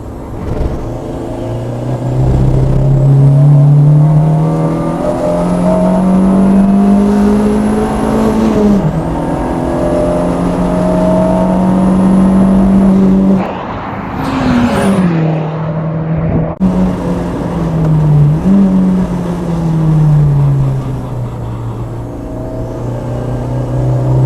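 A 321 bhp hybrid-turbo 1.8T VW Golf Mk3 GTI pulls hard on a race track, its engine note climbing steadily through the revs with a brief drop at a gear change before rising again, loud and close throughout.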